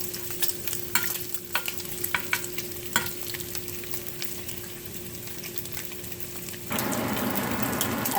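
Bacon slices fry in a pan with a steady crackling sizzle and scattered pops, then a louder, denser hiss surges near the end as fresh grease spits.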